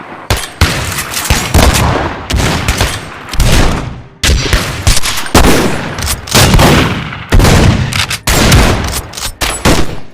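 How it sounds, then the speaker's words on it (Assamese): Heavy gunfire from a battle at a fortress, loud close volleys of shots and rapid bursts that come in repeated waves with short pauses between them. "দুয়োপক্ষৰ মাজত তীব্ৰ গুলীয়াগুলী চলিল।"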